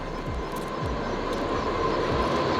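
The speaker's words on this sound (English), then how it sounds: "You hear the choo-choo train?" A train passes very close by with a broad, steady rumble and roar that holds throughout, and no voices can be heard.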